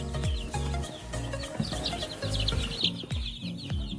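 A brood of 10-day-old chicks peeping continuously in close, busy overlapping chirps, with a low rumble of background noise underneath.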